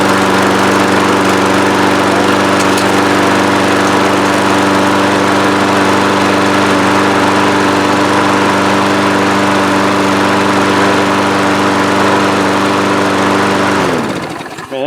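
A Troy-Bilt lawn mower engine from a thrift store runs loud and steady close by for almost fifteen seconds, with a constant droning hum, then dies away at the very end.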